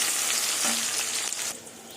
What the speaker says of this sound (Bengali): পেঁয়াজ কুচিয়ে দিয়ে দেবো পেঁয়াজে নুন দেবো অল্প করে আর পেঁয়াজটা পুরো লাল লাল করে ভেজে নেব